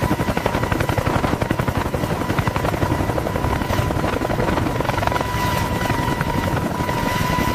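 CH-53K heavy-lift helicopter in flight, its rotor blades thumping in a loud, rapid, steady beat over a continuous turbine drone, close and unbroken.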